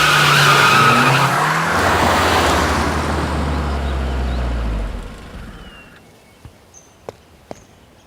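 A car pulls away with loud screeching, skidding tires and a roaring engine, then fades into the distance after about five seconds, leaving a few faint clicks.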